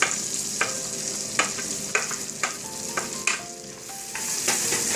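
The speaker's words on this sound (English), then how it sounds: "So we'll saute the garlic in the butter till the raw smell of garlic goes away." Garlic sautéing in melted butter for tomato soup, giving a steady close sizzle with repeated sharp scrapes and clinks of a utensil stirring through the pan.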